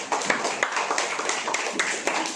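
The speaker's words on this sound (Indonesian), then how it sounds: "Beri tepuk tangan buat Tika." Classroom clapping from students praising a classmate, a fairly quiet, uneven patter of many hands with a few sharper claps standing out.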